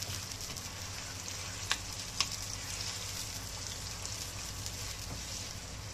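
Alexandrian-style liver sizzling over high heat in a pan, a steady soft frying hiss with a couple of sharp clicks as it is gently stirred, no voices.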